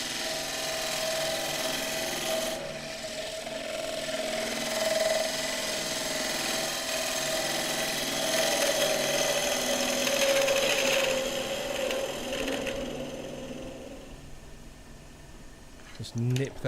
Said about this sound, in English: Speed the lathe up a touch